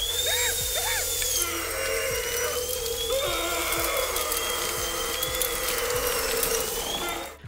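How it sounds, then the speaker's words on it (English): A small dental drill whines steadily in a horror-movie torture scene, its high, sustained tone wavering slightly over a low rumble and a series of regular mechanical clicks. "the dentist takes a small drill right to his mouth"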